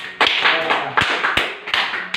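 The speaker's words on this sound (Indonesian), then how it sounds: "Tepuk tangan untuk kita semua." A few people clapping in a classroom during a microteaching session, sparse uneven claps with distinct sharp hits rather than a full ovation, close and fairly loud.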